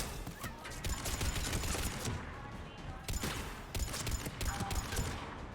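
Small pistol fire in the Mass Effect video game, a steady run of sharp shots with brief pauses, mixed with other combat noise and game sounds, loud throughout.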